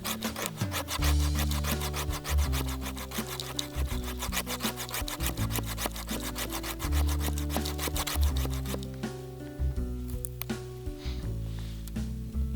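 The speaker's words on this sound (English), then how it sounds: "Has a 90-degree spine, so it's really easy to get some fine shavings" The 90-degree spine of a CRKT Saker bushcraft knife scrapes fine shavings from wood: a close, rapid rasping of repeated strokes, nearly continuous for about nine seconds before thinning out, with a low drone running underneath.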